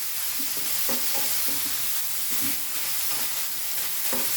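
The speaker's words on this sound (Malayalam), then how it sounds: "ഹൈ ഫ്ലെയിമിൽ തന്നെ ഇരുന്ന് ഒന്ന് വഴറ്റട്ടെ" Two large ripe tomatoes sautéing in a pan on high flame, a loud continuous sizzle and hiss with intermittent scraping stirs, close and steady, no voices.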